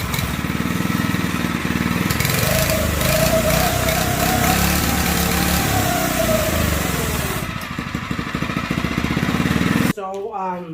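Monster Moto 80 minibike engine running after a carburetor adjustment, a loud, close, continuous buzzing drone with speech over it, ending abruptly.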